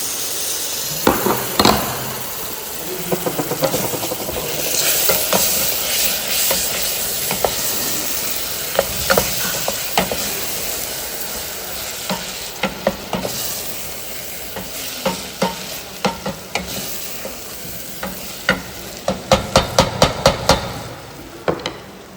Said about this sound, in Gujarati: હવે આ પાકા ટમેટા નાખી દેવા.